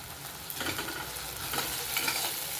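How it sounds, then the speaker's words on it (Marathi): Spice masala sizzles in hot oil as a tempering for mung dal amti, a quiet crackling fry with a few stirring scrapes, heard close with no voices. "आता हे मसालेही आपल्याला ह्या फोडणीमध्ये छान परतून घ्यायचे"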